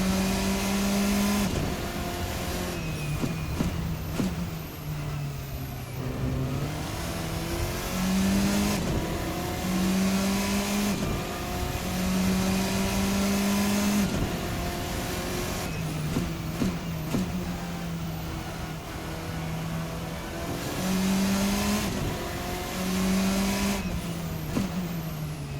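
A Formula RSS 4 race car engine in a sim racing game drones steadily at high revs, its pitch climbing and dropping as it shifts through gears, loud and continuous with no talking.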